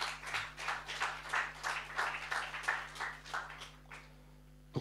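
Applause from the audience of a formal assembly on francophone economics in Africa fills the hall, a steady wash of clapping at moderate distance that thins out and fades near the end.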